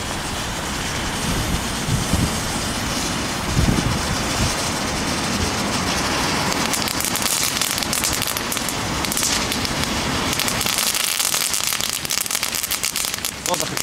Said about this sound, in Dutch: Wat een knetter. Aardig. Lekker knettertje.